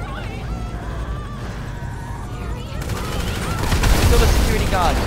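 Rapid gunfire in GTA 5, bursts of shots that grow louder and denser toward the end, heard under players talking.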